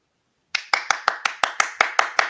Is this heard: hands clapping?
yes